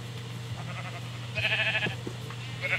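Sheep bleats from a blocky survival-building video game, a few short wavering calls standing out over a steady background game tone, fairly close and clear.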